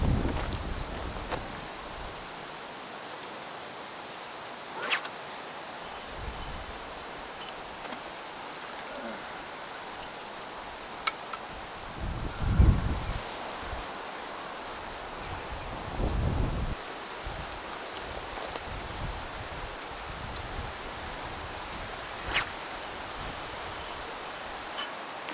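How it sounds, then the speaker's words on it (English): Wind gusts buffet the microphone beside a fishing lake, a continuous rushing hiss broken by several louder low thumps and bursts, with no voices. "there's lots of wind noise on here, the wind is just picking up and blowing right in my face"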